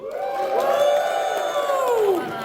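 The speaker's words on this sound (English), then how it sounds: "one more cheer for our contestants" Audience at a PAX East gaming panel cheering and whooping for contestants, a loud sustained crowd roar with rising shouts, close and continuous throughout.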